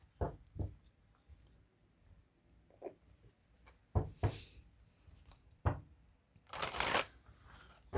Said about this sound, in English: Let's pull some cards in these and let's see what we get.